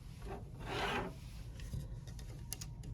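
Fabric being hooped in an embroidery hoop without stabilizer, with close, quiet rubbing and rasping as the material is pressed and slid between the rings, one longer scrape followed by lighter scuffs and a couple of small taps.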